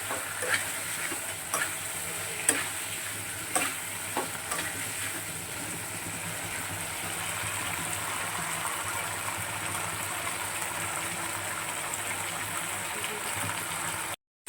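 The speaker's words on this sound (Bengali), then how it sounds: "আগে আলুটা ভেজে নিয়েছি, আলু পেঁয়াজটা ভেজে নিয়ে তারপর চিংড়ি মাছটা দিলাম।" Prawns frying in a pan with potato and onion, a steady close sizzle throughout with occasional scraping stirs near the start, no talking.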